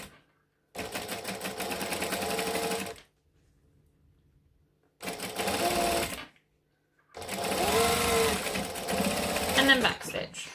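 A sewing machine bastes a zipper in place in three close, loud bursts of rapid mechanical stitching, separated by short quiet pauses.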